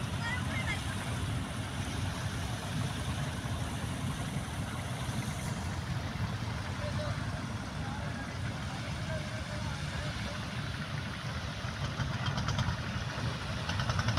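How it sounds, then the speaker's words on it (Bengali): A river trawler's engine drones from some distance on the Shitalakshya river, a low steady rumble blended with lapping waves and wind. "ওপাশে ট্রলারটি ছেড়ে যাচ্ছে, ট্রলারের শব্দ হচ্ছে"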